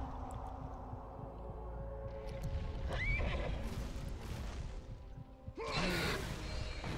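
Pegasus the horse neighs in the God of War II video game, a loud whinny rising over game clatter, hoofbeats and whooshing effects, with a second burst near the end.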